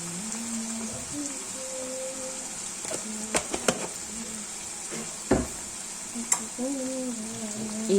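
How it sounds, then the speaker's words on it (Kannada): Tomato and turmeric powder frying in a pan give a steady low sizzle, broken by a few sharp clinks and scrapes of stirring. "ಅರ್ಧ ಟೇಬಲ್ ಸ್ಪೂನಷ್ಟು ಅರಿಶಿನ ಪುಡಿನ ಹಾಕಿ ಇದನ್ನು ಕೂಡ ಫ್ರೈ ಮಾಡ್ಕೊಳ್ಳಿ."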